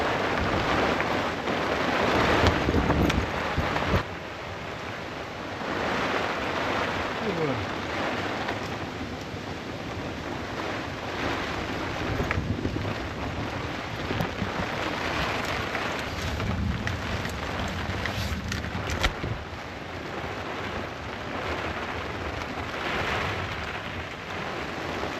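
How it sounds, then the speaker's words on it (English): Steady heavy rain from an overnight thunderstorm hisses and patters on surfaces at a lakeside camp with a rooftop tent, with low rumbles of thunder rolling through now and then, continuous and fairly close. "here comes the rain."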